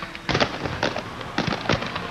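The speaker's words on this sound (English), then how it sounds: "when you see the fireworks go off" Fireworks at an opening ceremony for the Prairie Rose State Games in Grand Forks, North Dakota, crack and thump in four separated bursts over about two seconds, with steady crowd and outdoor noise between them.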